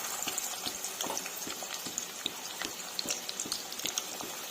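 A medium onion, sliced thin, fries in hot ghee with a busy crackle of small pops and sizzles, plus occasional stirring scrapes, moderately close and steady, with no talking.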